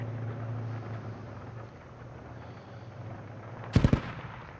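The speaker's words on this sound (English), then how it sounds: "the gunfire is actually from an MG emplacement" A quick burst of three or four loud automatic gunshots from a machine-gun emplacement in a video game near the end, following a stretch of low rumbling background noise.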